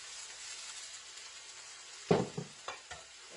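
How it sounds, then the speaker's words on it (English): Celery and mushrooms hitting a hot wok, a soft steady sizzle followed by a few sharp clatters and stirring knocks near the end, close by with no voices. "We're just going to add the celery and the mushrooms into the wok."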